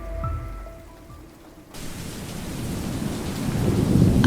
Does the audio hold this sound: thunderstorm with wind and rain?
yes